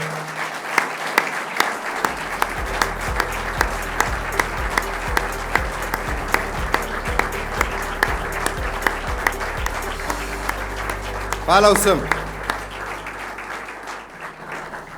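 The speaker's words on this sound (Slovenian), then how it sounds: "kdo je za, naj da aplavz za akcijo" A party programme conference audience gives a long, loud round of applause, with continuous clapping, a brief voice speaking near the end and a short whistle-like tone just before the clapping fades.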